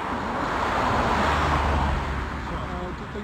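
A car drives along a mountain road at night, its steady engine and tyre rumble filling the short stretch with continuous broadband noise, with faint voices underneath.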